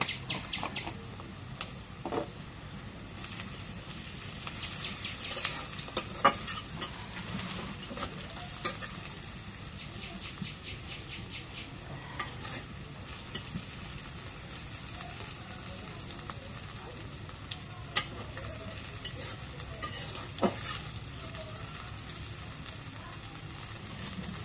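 Cumin seeds crackle and sizzle in hot oil while being stirred, a soft steady frying hiss with scattered pops and clicks of a utensil, faint birdsong now and then in the background.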